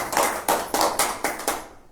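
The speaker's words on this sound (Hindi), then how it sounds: "ताली तो बजाइए" Hands clap in a small gathering marking the New Year's Eve farewell to the old year, six sharp distinct claps at an even rhythm, close and fairly loud, then a quick fade to silence.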